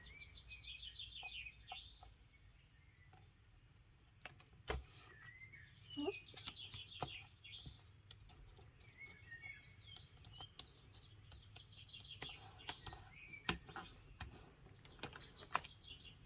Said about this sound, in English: I just have birds on in the background